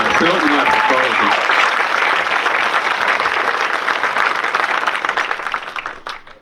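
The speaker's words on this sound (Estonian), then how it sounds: "See on väärt aplausi." Sustained audience applause dense and loud at the unveiling of a solar car, with a voice briefly heard at the start, tapering off over the final second.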